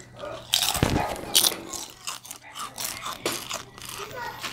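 Crisp crunching bites of seafood chips and chewing close to the mic, a few loud crunches followed by softer chewing, with some talking mixed in.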